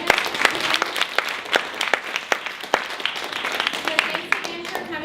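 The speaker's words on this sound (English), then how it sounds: "Can we get a round of applause?" Audience at an e-commerce workshop claps steadily for several seconds, a dense patter of many hands at moderate volume with no talk over it.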